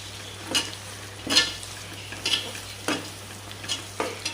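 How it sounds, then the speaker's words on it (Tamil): Onions sautéing in a pan give a soft, continuous sizzle, broken by about six distinct scraping stirs at fairly regular intervals, fairly close and quiet. "வெங்காயம் நல்லா வதங்கி வரணும்"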